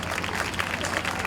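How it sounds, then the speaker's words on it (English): A homecoming pageant crowd applauds, dense steady clapping from many people with faint crowd murmur beneath, fairly loud and even throughout. "Let's give them all a round of applause."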